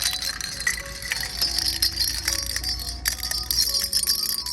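Small decorative acorn-shaped bells on a fall home decor string at a Michaels craft store, jangling and tinkling in scattered bright clusters of rings over about four seconds, close by.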